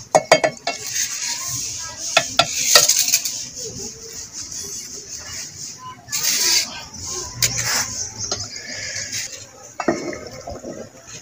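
Mango halwa stirred in a pan, with repeated spoon scrapes and clinks against the metal and a soft background of sizzle. A voice talks intermittently.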